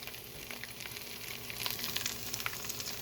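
Carb-free pickle chaffles fry steadily in a pan with a soft, continuous sizzle and crackle, fairly quiet and close, with little pops growing a bit denser toward the end.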